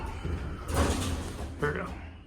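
A Montgomery Vector hydraulic elevator door at a Macy's department store in a Canton, Ohio mall slides shut with a soft rumbling swish and a brief thud at the end, heard up close while a person talks.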